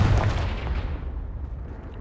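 A Confringo blasting spell explosion in Hogwarts Legacy, a single heavy boom with a deep rumbling tail that fades over about two seconds, heard alone without talk.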